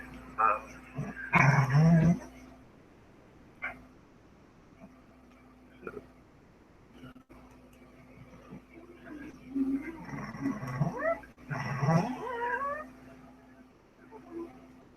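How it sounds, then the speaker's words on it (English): A dog growls and vocalises in drawn-out, whining, moaning bursts, loud and close, with quieter stretches between the outbursts. "If you hear my dog, have you ever had a dog that does this?"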